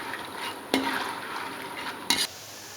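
Kara sev dough pressed into hot oil and deep-frying, a steady close bubbling sizzle with two brief sharper clatters of utensils, no talking.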